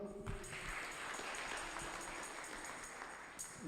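A church congregation at a Kikuyu-language service claps together, a steady patter of many hands that runs throughout at moderate level without speech.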